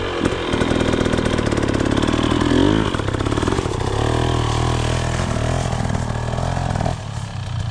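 A Yamaha YZ250 two-stroke dirt bike revs loud and close while climbing a craggy rocky trail, the engine buzzing and rising in pitch with continuous throttle blips, then easing off near the end.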